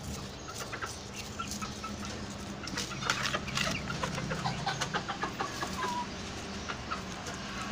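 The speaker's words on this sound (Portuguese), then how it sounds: "As galinhas hoje estão animadas," A flock of chickens clucks and murmurs continuously in a backyard garden, a busy mix of soft, overlapping clucks and occasional sharper calls, moderately near over a low outdoor hum.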